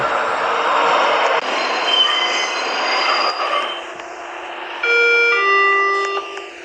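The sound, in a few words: train arriving in a video game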